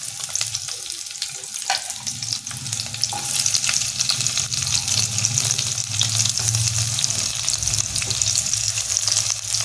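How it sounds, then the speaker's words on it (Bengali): Chopped onion sizzles steadily in hot oil in a kadai while mouri paneer is cooked. The frying is loud and continuous, close by, with a few faint scrapes and no voices. "এবার কড়াতে পেঁয়াজটা আমি দিয়ে দিলাম"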